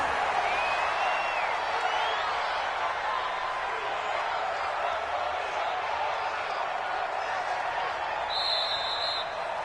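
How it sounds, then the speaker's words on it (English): Stadium crowd noise from a PS4 American football video game, a steady broad roar of spectators at the end of a Chargers game, continuous and fairly loud. "So this crowd will not go home happy."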